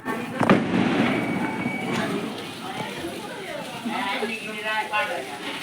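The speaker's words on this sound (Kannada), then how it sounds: "ಫೈನಲಿ ಗಿಟ್ಟಿ ಪಟಾಕಿ ಬಿಡಿಯಲು" Diwali firecrackers crackle and pop at close range along with the hiss of a ground spinner, while people talk over the noise throughout.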